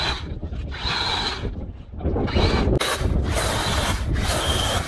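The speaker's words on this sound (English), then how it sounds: "we're gonna go ahead and start cutting." Battery electric chainsaw cutting through firewood, a steady close whining buzz that dips and surges as the blade bites into the wood and eases off, running continuously.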